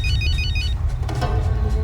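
A ringing phone rises in a documentary scene, a repeated high electronic tone pattern in the first part of the clip over a steady low rumble of background noise.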